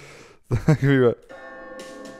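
A small bell rings within a piece of music, a sustained bright tone with a clear shimmer that decays slowly, following a burst of laughter and a voice speaking just before it.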